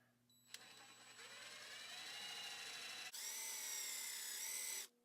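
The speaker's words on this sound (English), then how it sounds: "Going to take my 3/8 inch drill bit" A power drill with a 3/8 inch bit whirs steadily at close range while pre-drilling holes for boat trim tabs, its pitch shifting slightly as the bit bites, then revs higher before stopping abruptly.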